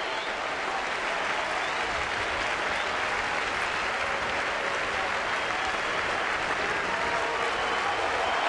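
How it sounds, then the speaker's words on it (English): A large baseball crowd at Safeco Field gives a pitcher a standing ovation, with steady, loud, dense applause and cheering sustained throughout without a break. "Felix Hernandez has earned a standing ovation and loud roars"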